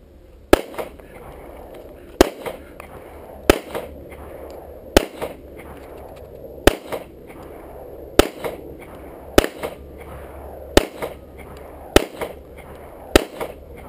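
Repeated outdoor shots from a Smith & Wesson .38 snub-nose revolver, about ten sharp loud cracks at roughly one-to-two-second intervals, with brief voices between some of them.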